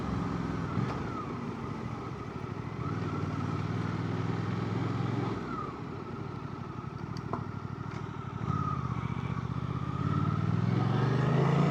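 A Suzuki GSX 8T motorcycle on the move, with a steady, close engine drone and road and wind roar that rises slightly as it accelerates toward the end.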